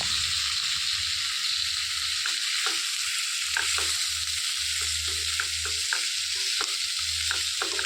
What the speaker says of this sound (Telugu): మంచిగా ఈ నూనెలో ఒక 2 సెకండ్ల పాటు అయితే వేయించుకోవాలి.